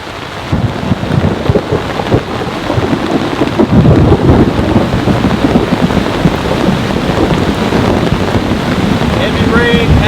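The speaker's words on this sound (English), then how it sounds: "Heavy rain has returned." Heavy rain drums loudly and constantly on a large Japanese tent during an intense storm, with rumbling thunder and wind buffeting the microphone, close and dense throughout.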